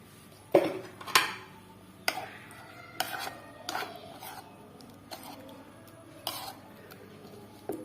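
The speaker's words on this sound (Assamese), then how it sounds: "বিশ মিনিটৰ পিছত মই এইখিনি নিমখ অলপ দি ভালকৈ লৰাই লওঁ" Stirring chicken curry cooked with yogurt in a pot with salt added: a handful of distinct scraping clinks of a spoon against the metal pot, spaced irregularly, close and fairly clear over a quiet kitchen background.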